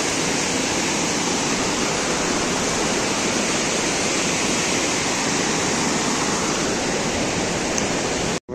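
Continuous rushing roar of a river flowing nearby, loud and unbroken throughout, with no talking.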